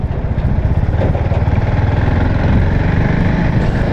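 A Husqvarna 701 Vitpilen single-cylinder motorcycle rumbles loudly and steadily while being ridden. Its low pulsing engine note stays close and constant throughout, with no talking.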